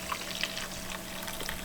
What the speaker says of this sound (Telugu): వేడిగా కొన్ని వాటర్ పోసుకుంటా.